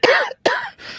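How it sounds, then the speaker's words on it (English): Two sharp, throaty coughs in quick succession, close and loud, with a brief silence between them and no talking. "That's enough to make me cough."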